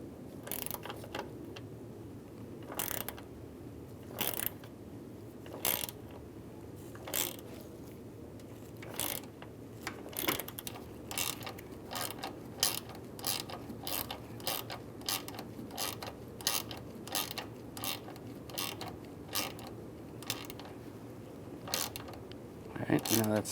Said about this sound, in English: then we're going to hold the bolt from spinning using a 5mm socket, Hex Socket. And we'll tighten this down.